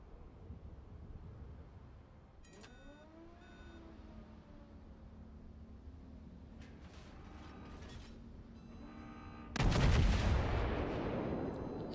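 Heavy naval guns of a warship fire in the World of Warships naval combat game, a sudden loud booming broadside near the end that then rumbles on, after quieter mechanical beeps and game sounds.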